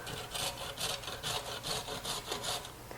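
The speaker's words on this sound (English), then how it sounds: "I'm going to shred the carrot" A carrot is pushed over the biggest side of a box grater in regular back-and-forth strokes, about ten rasping scrapes in steady rhythm, close and fairly loud with no talking.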